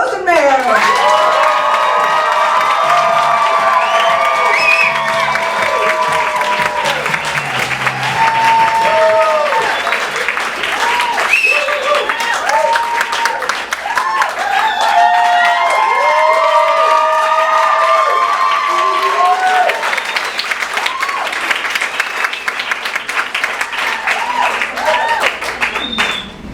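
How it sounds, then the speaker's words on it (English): Comedy show audience gives a long, loud burst of applause and cheering, steady clapping with whoops and shouts throughout, as a comedian is welcomed to the stage. "Warm round of applause for Olga Rosenmayer"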